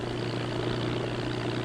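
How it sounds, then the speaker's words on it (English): A flat-bottomed airboat powered by an airplane propeller drones steadily across shallow water in Florida, a loud, constant engine and propeller roar with no breaks and no voices. "Civilization's most extraordinary gift has been the airboat."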